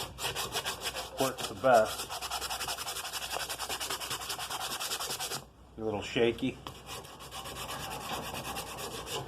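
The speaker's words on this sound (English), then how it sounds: "We're going to hit it with some sandpaper" Steady rough rubbing and scraping of sandpaper by hand on the rusty metal of an old Black and Decker Home Utility drill press, continuous back-and-forth strokes with a brief pause, someone speaking briefly over it, wind noise outdoors.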